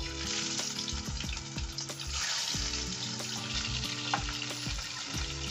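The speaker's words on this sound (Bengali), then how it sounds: "তেলটা গরম হয়ে গেছে, এরপর মাছগুলোকে ছেড়ে দেব" Puti fish dropped into hot mustard oil give a continuous close-up sizzle and spatter, with a tonal musical backing running underneath.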